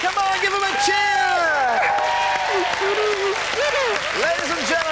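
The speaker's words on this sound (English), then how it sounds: "Come on, give him a cheer!" A studio audience applauds and cheers on a 1991 television game show, with a loud host talking excitedly over the clapping the whole time.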